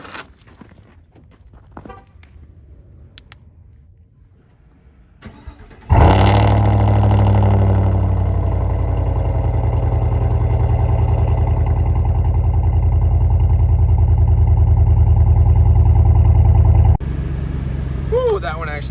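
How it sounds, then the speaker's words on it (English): A 2021 Chevrolet Silverado pickup truck's engine cranks and roars to life, then idles loudly and steadily for about ten seconds before dropping to a quieter rumble; faint voices come earlier. "we're gonna fire the truck up here, put it in reverse, make sure it turns on"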